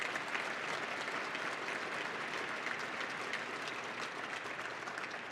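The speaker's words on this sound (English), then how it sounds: "another big round of applause for Bonnie" Big round of audience applause at an honor guard gala, continuous dense clapping from a large crowd throughout, fairly distant and even in level without speech.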